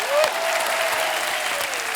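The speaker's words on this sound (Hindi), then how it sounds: "जोरदार तालियां होनी चाहिए" A group gives brief, dense, steady applause for an award-winning cook, with a faint voice rising over the clapping.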